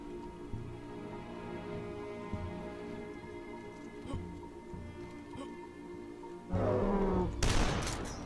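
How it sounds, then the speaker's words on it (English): A sawed-off shotgun in the retro shooter game DUSK fires two loud, blasting shots close together near the end, over a steady droning game soundtrack. "Turned the corner, sawed-off shotgun to the face"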